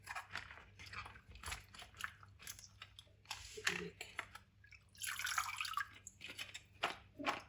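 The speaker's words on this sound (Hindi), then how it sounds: "इस तरह आपने मल के इनको धोना है।" Fresh okra being rubbed and rinsed by hand in water gives wet squelching, dripping and splashing sounds in short irregular bursts, close and fairly soft.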